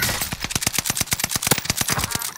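A rapid burst of video game gunfire during a team firefight, about twenty close, loud shots in an even, fast rhythm, with no talk over it.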